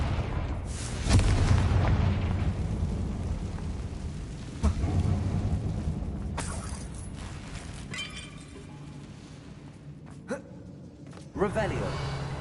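Fiery Confringo spell blast in the Hogwarts Legacy video game, cast inside a closed mine: a loud booming burst under continuous game music and ambience, followed by smaller thumps and crackles, with a voice speaking.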